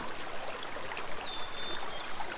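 A flowing stream babbles and trickles continuously, a steady broadband wash of running water with no voices.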